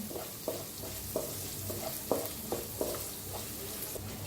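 Garlic and half a spoon of turmeric roasting in oil for kadhi, a soft continuous sizzle with periodic scraping stirs of a spoon against the pan, close and quiet without speech.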